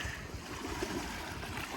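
Ocean waves wash in on a beach of blonde sand during gold prospecting, a dense, continuous roar of surf mixed with gusty wind rumble, loud and close throughout.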